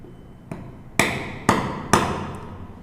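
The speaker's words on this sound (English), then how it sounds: "Make sure you hold the chisel straight down. Hit it hard." Chisel struck with a mallet to cut dovetail joints in wood: four sharp, close knocks about half a second apart, the last three louder, each ringing briefly, with no voices.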